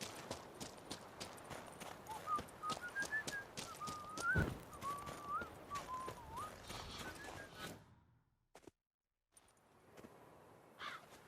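Horse hooves clip-clopping in a steady rhythm with a brief whinny-like whistle, from the video game The Witcher 3, fairly close under ambient birds and crows, then dropping to near silence before faint sounds return.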